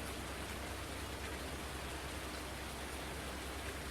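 Steady rain in Farming Simulator 19, a constant soft hiss of falling drops with no change in intensity, low and even throughout, without any talk.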